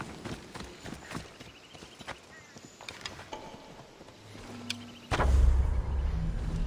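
Horse hooves clip-clop in rhythmic footfalls in the video game Assassin's Creed Odyssey, faint among scattered game effects, before a sudden louder low rumble takes over near the end.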